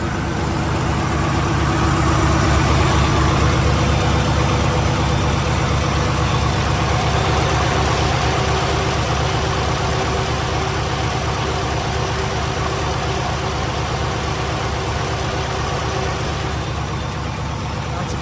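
The engine of a 2019 Peterbilt 579 truck idles loudly and steadily up close, a dense, continuous low rumble that holds even throughout.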